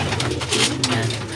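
Racing pigeons cooing nearby in a short burst, soft throaty calls over a steady low background hum.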